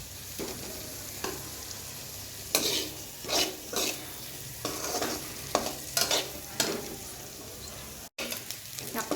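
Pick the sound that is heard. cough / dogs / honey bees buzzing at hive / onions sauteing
onions sauteing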